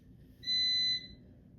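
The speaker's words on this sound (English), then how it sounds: "sorry for all the beeping" A single sustained electronic beep, high and steady, lasting about half a second over a low background hum.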